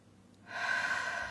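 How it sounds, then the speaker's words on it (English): A person doing a morning breathing exercise takes a single deep inhale through the nose, rising from near silence into a loud, steady, close airy rush that holds to the end. "let's do a little bit of breathing. In through the nose,"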